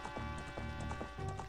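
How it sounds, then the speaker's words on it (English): A horse gallops in The Legend of Zelda: Ocarina of Time, its hooves making quick rhythmic clip-clop beats under sustained game music. "I'm gonna call Epona here in a second"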